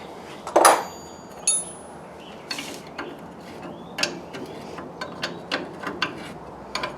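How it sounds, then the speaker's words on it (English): Ratchet turning a nut on a ball joint while lowering a RAM 50 truck, a sequence of sharp metallic clicks and clinks, a few louder at first, then evenly spaced lighter ticks, close and alone. "now as I'm loosening this, the ball joint's spinning with the nut"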